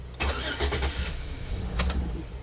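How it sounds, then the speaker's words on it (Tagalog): A Chevy Avalanche with long-cranking trouble, its crankshaft and camshaft sensors replaced, cranks with a rough starter churn before the engine catches and settles into a low idle, close and moderately loud throughout a couple of seconds. "maandar agad siya pag inulit mo siyang crank"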